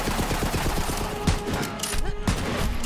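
Rapid automatic gunfire in Borderlands 3, a fast rhythmic burst of shots up close, with further shots and weapon effects following, and a voice talking faintly underneath.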